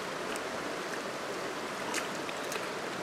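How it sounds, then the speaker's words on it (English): Wading across a shallow creek about a foot or two deep, a soft continuous rush of flowing water with a few brief splashes of feet moving through it, close and fairly quiet. "now comes the fun part of crossing the creek on our way back"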